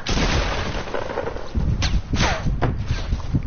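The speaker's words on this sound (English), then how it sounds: "I was shooting this kid, but he didn't die." Gunfire from a PS4 shooter game: a dense, loud burst of rapid shots and booms fills the whole stretch, with a few sharper cracks standing out toward the end and no talk over it.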